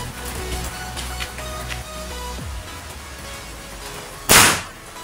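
A single loud, sharp blast from a homemade cannon of about ten joined tin cans near the end of the clip, preceded by quiet rustling and faint background noise.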